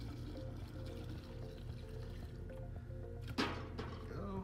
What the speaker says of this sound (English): I'm gonna fill up my little Airofog canister